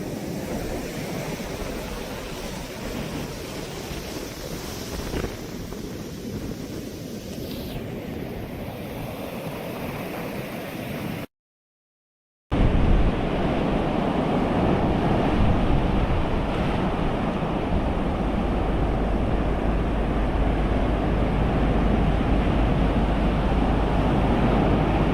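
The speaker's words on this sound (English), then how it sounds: "the frequency of the waves are definitely picking up here." Ocean waves pound a Caribbean beach during Hurricane Melissa, a loud continuous surf roar mixed with heavy wind buffeting the microphone, broken by a brief dropout before the crashing resumes even stronger.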